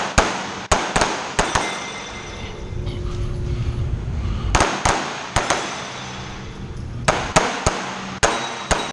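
Pistol gunfire from a ported Platypus and a Staccato XC shot side by side on a shooting stage, sharp loud cracks in quick pairs and clusters with ringing pauses between strings of shots.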